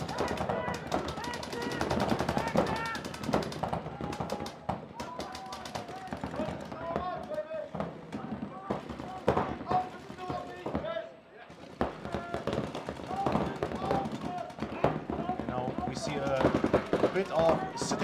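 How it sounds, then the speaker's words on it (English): Paintball markers fire in rapid, overlapping volleys throughout a professional NXL Europe tournament match in the Netherlands, a dense crackle of shots with commentators talking over it. "Probably people will run out of paint soon and need to stop shooting that much."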